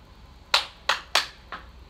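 Four sharp hand claps ring out close and alone during a popcorn warm-up game, three in quick succession and a softer fourth after a short gap.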